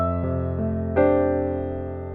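Jazz piano plays with an arpeggiated left hand landing on a quartal voicing: sustained, ringing chords shift at a few points, and a brighter chord arrives near the end and decays under the pedal, with no talking.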